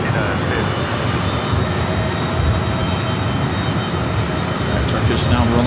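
A Turkish Airlines jet rolls down runway 24 left at LAX, its engines a loud, steady roar at a distance, with voices talking over the noise.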